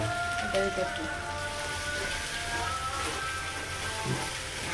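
Chicken curry spices frying in a pan, a continuous soft crackling sizzle with occasional voices in the background.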